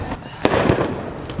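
Firecrackers burst outside during a crowded festive celebration, heard from indoors: a couple of sharp cracks ring out over a continuous rumbling crackle of distant explosions.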